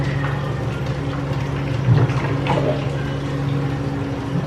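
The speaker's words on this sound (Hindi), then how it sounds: "अभी डाला जाएगा वाटर" Water pours steadily into a cooking pot of mutton yakhni pulao with spice bundle, a continuous splashing gurgle with a brief louder slosh midway, close and alone.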